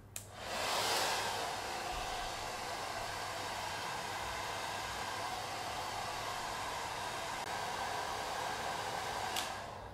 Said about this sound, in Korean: 드라이기 약한 바람으로 열을 조금만 줄게요